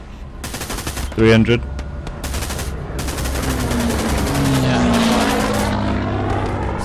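Hell Let Loose battlefield gunfire, a loud burst of shots near the start followed by a steady rumbling engine drone, with a voice speaking briefly over it.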